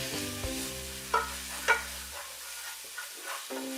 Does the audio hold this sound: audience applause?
no